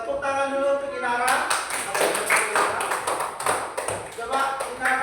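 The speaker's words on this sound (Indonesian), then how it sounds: "tepuk tangan dulu untuk Inara." Schoolchildren in an Indonesian classroom break into a burst of applause for a classmate, a dense flurry of hand claps that follows a teacher's brief speech and continues steadily to the end.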